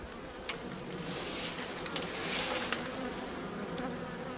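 Dense, steady buzzing of honey bees around beehives opened for inspection, a continuous swarm-like drone with no talk.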